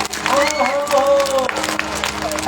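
A crowd gathered at a yajna ceremony claps briefly amid shouting voices and music, the clapping mixed under loud talk and tones.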